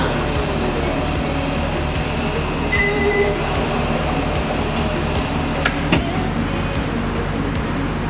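A 1982 UM Electrek electric vehicle driving, a steady broadband rolling rumble with low hum throughout, fairly loud and continuous, with a couple of brief clicks near the end and no talking.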